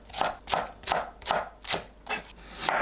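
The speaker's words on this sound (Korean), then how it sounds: "파를 어슷 썰어줍니다." Green onion sliced diagonally with a knife on a cutting board, seven or so evenly spaced crisp chops in a steady rhythm, close and clear with no talking.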